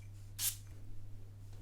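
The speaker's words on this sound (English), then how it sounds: "Spraying them together," Hareem Al Sultan Gold eau de parfum gives one short, sharp spritz from a spray bottle, close and crisp, over a quiet background hum.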